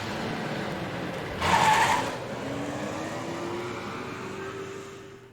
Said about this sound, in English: We all climb into the car and head straight to Kujo Mansion.